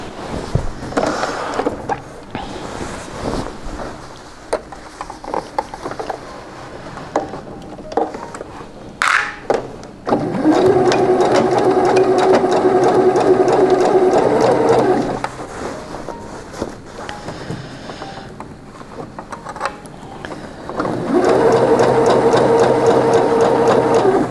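A sewing machine runs in two sustained bursts, stitching a pocket's seam allowance to the side seam of a princess-line pinafore dress, with quieter handling and fabric rustle between the runs.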